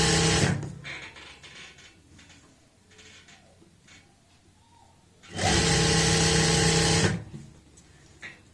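A sewing machine stitches a strip onto palazzo pants with a half-inch margin. A short burst at the start gives way to quiet handling, then a loud, close run of stitching lasts nearly two seconds before stopping.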